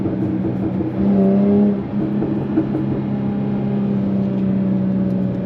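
Jaguar F-Type S with a 380 hp engine in sport mode: a steady, loud engine drone with a brief rev swell, under which faint exhaust crackles may be present, no talking.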